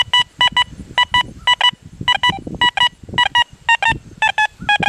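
Rapid electronic beeping tones from a Deus 2 metal detector in quick bursts, a repeating pattern of high pitched pulses over faint background rustling and low noise.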